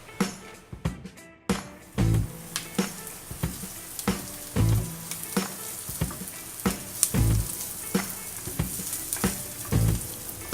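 Garlic and onion sauté in hot cooking oil for chop suey, a steady crackling sizzle broken by repeated loud clanks and scrapes of a utensil against the pan, close and continuous with no talking.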